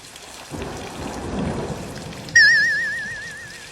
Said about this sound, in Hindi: ये बारिश को भी अभी आना था।